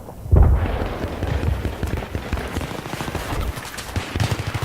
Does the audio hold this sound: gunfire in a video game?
yes